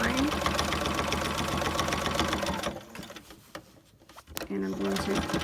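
A sewing machine top stitches a fabric mask with a steady, loud mechanical whir for several seconds, then slows and pauses before a brief restart.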